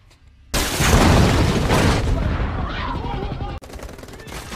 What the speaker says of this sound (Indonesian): tak lama baku tembak pun terjadi